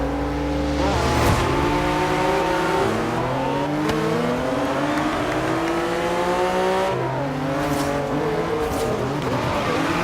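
A pickup truck races in Forza Horizon 3, its engine droning and shifting pitch through gear changes. Tires squeal through the corners in a continuous, loud game mix with no speech.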